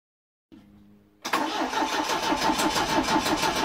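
A 1982 Triumph TR7 engine cranks briefly with a low whirring, then catches and roars into a steady, loud, busy idle with a rhythmic rattle, an abnormal engine noise.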